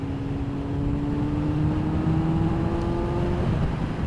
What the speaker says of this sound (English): Engine wise, does pull nicely, feels fine in the lower revs.